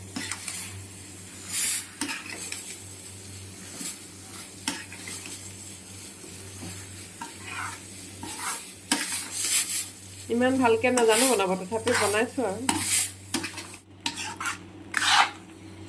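Sweet jujube pickle with jaggery and sugar is stirred and fried in a pan over a low flame, with spoon scrapes and soft sizzling coming in irregular bursts as someone talks over it.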